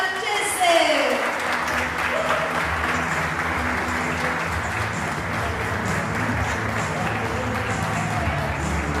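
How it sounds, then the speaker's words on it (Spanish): A crowd applauds loudly to welcome Gloria Marchese, steady dense clapping that holds for several seconds under a brief swell of voices at the start. "Fuerte el aplauso para recibir a Gloria Marchese."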